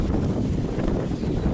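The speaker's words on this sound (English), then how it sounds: "It's very windy right now." Strong wind buffets the microphone with a constant low roar and rumble, loud and close, with no voices, in Southern California during high fire danger.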